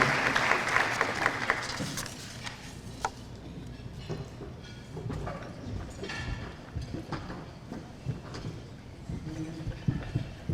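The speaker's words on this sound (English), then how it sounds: "A big round of applause." Applause at a Hall of Fame gala, scattered and uneven, louder at the start, then thinning into sparse claps and room noise.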